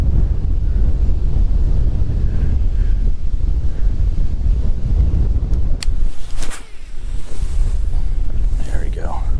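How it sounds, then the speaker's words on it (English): Strong wind buffets the microphone while bass fishing, with a loud, steady roar and gusting rumble, broken by a few sharp clicks and brief handling noises. "Wind is definitely picking up."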